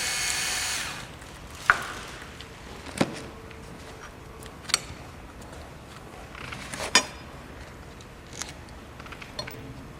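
Tools work loose the 12mm bolts holding a bracket in the engine bay of a 2008 Subaru WRX, giving a handful of sharp, sparse metallic clicks and taps over a low background, with a brief noisy burst at the start.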